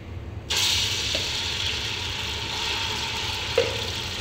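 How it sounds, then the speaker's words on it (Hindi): Mutton sizzling as it is fried with ginger garlic paste for qorma, a steady close hiss that starts abruptly and carries on with a brief clink partway through. "अब हम इसमें अदरक लहसुन डाल के गोश्त भून लेंगे अच्छे से।"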